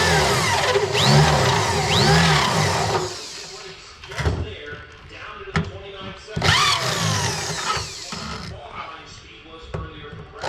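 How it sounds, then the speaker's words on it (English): A drill bit grinds and scrapes against the inside of a race car's sheet-metal door, giving loud, harsh, uneven scraping with clanks and short whines throughout. "the drill head is scratching the inside of the door here"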